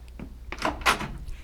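A door opening on someone's arrival, staged as a sound effect in an old radio mystery drama: a quick run of close clicks and a brief rattle-like swell, moderately loud and without speech.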